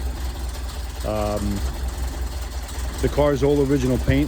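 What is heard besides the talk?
classic car engine running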